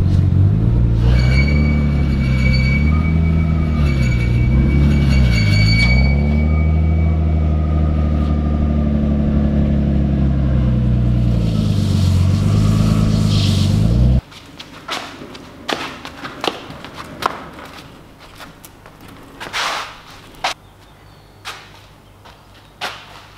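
An RB25DET engine fitted with a Chinese turbo revs hard, a loud harmonic drone rising and falling through several throttle blips for about fourteen seconds, then drops away to idle with scattered clicks and thumps.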